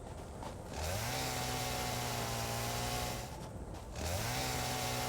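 A chainsaw in Satisfactory runs continuously, revving up twice to a steady high buzzing drone, loud and close with no talk over it.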